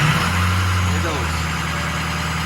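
A Ford 6.0 Powerstroke diesel idles with a steady low rumble, then its pitch and drone rise as it bumps up into high idle, running loud and close throughout.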